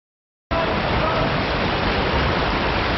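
River water rushes over a weir in a dark underground culvert, a loud, dense, unbroken roar that starts abruptly after a brief moment of silence and holds steady.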